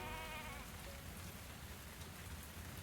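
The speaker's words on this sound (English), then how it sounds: "That's raining." Steady soft rainfall in a fantasy video game, a continuous hiss of raindrops lasting throughout, faint and even with no voices.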